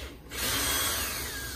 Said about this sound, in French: Surtout avec une perceuse dévisseuse.